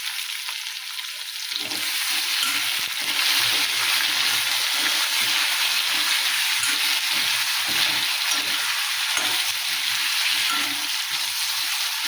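Ridge gourd frying in hot oil while being stirred in a home kitchen pan, a steady loud sizzle with scraping stir strokes throughout, no talking.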